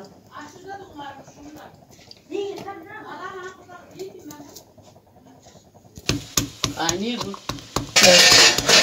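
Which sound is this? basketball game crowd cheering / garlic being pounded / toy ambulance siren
garlic being pounded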